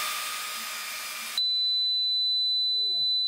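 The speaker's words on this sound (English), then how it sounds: "I think that's the fire alarm." A fire alarm gives one sustained high-pitched electronic tone that cuts in abruptly after a burst of loud broadband noise, presumably from a running xTool D1 40W laser, and holds steadily to the end.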